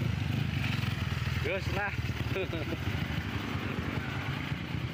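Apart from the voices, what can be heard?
bored-up Diablo motorcycle engine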